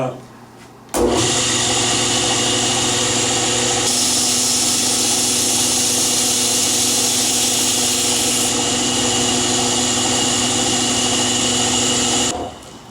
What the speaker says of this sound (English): when I sharpen on the belt, I'm using a 120 on this because I want it to be fairly aggressive